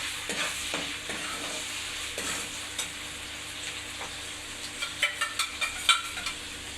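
Curry leaves and boiled egg pieces fry in hot oil, giving a continuous close sizzle with stirring clatter and a run of sharp spatula taps or pops near the end, with no talk.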